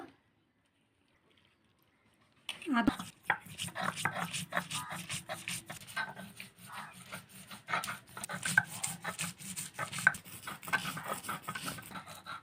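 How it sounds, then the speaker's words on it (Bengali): A hundred grams of soaked dal is ground by hand: after a silent opening, a close, rhythmic rubbing and scraping starts and continues steadily in uneven strokes. "আমাদের একশো গ্রাম ডাল ভিজিয়ে নিয়েছে এবার ডালটা বেটে নেব"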